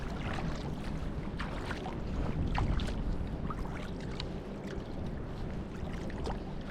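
A surfboard is paddled through ocean waves, each hand stroke adding a splash over a steady wash of churning water and surf, close and fairly loud, with no talk.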